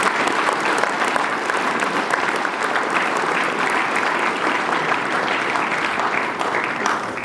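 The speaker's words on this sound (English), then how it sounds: "give them a round of applause too" A school gathering claps for its staff: dense, sustained applause from a sizeable crowd, steady and fairly loud for about seven seconds, easing slightly at the end.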